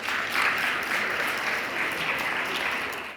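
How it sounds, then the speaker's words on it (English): Steady, dense applause from a gathered crowd honoring student athletes, a continuous wash of many hands clapping that holds evenly before tapering off at the end. "I think they deserve a round of applause"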